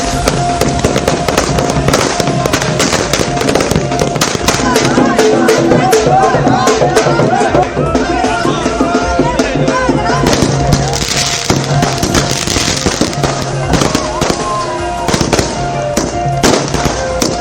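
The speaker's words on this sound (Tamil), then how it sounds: "ஆரத்தி எடுத்தும் பட்டாசுகள் வெடித்தும் மக்கள் உற்சாகத்தில் திளைத்தனர்" Firecrackers burst in rapid, crackling volleys close by during a street celebration in Tamil Nadu, with a crowd cheering and voices mixed in over the continuous popping.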